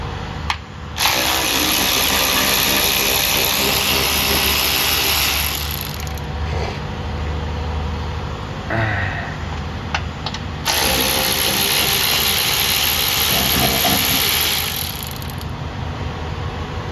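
A budget power tool loosens bolts on a car during an oil cooler leak repair on a Toyota V6. It runs loud and close in two long sustained bursts with a brief pause and a rattling hitch between them.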